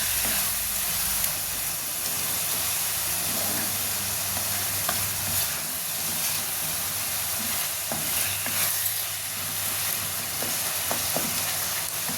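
Homemade garam masala being stirred and fried in a pan for a chicken kadai dish, a steady sizzle with scraping stir strokes throughout, close and continuous with no talking.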